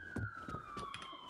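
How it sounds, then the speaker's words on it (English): A wailing siren in the video game Starfield sweeps steadily in the distance while short thumps and bursts of noise occur over it. "Sirens."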